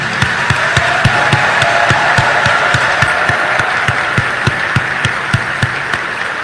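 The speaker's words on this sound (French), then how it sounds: "qu'il est juste et beau de vous exprimer notre gratitude par ce tonnerre d'applaudissements" Loud crowd applause at a university graduation ceremony, a dense roar of clapping with sharp regular thumps cutting through it, continuous throughout with no talking.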